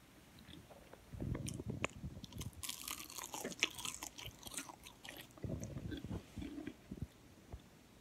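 Close, crisp crunching as fried green plantain tostones are bitten and chewed, with several bursts of crunches and short pauses between them.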